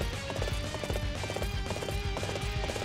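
Horse hooves pounding in a steady galloping rhythm in the video game Dynasty Warriors 8 Empires, loud and continuous over dense battle music and game sounds.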